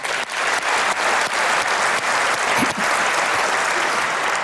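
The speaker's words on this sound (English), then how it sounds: "Round of applause for Rob." An audience at a talk on the security of Estonian e-voting gives a round of applause, a loud, dense and steady clapping that carries evenly through the whole stretch without pause.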